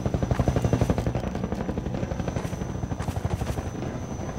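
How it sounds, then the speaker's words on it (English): A helicopter gunship in Half-Life 2 Episode Two gives a loud, steady rotor chop that thumps rapidly and evenly throughout, close and alone without voices. "Since you brought that chopper in on your tail, you want to maybe help us take it down?"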